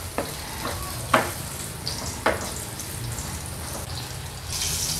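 Garlic frying in a pan, a steady close sizzle with a few sharp stirring scrapes and clatters, continuous throughout with no talk.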